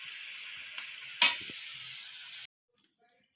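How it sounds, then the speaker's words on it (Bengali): Crab fries with turmeric in a pan for a Digha street-style crab kosha, giving a steady close sizzle with a scrape of stirring midway, then cutting off abruptly into silence. "এবার ভেজে নেবো। আস্তে আস্তে একটু নাড়তে হবে"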